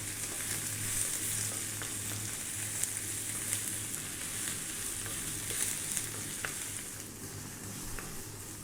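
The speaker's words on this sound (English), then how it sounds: "We're going to stir fry this around, keep it moving all the time for about 4 to 5 minutes now." Eggplant and spices stir-fry in a pan over high heat, giving a steady, dense sizzle with small scraping and stirring ticks throughout and no talk.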